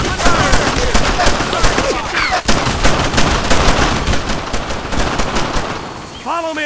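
Dense gunfire from a Brothers in Arms World War II video game battle: continuous overlapping rifle and machine-gun bursts with loud, rapid cracks throughout, fading slightly near the end, with soldiers shouting commands underneath.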